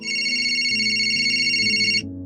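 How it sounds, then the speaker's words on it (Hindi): A phone rings with a steady electronic ringtone, a bright sustained tone over a shifting melodic pattern, loud and close, cutting off at the end. "तभी उसका फोन बजा"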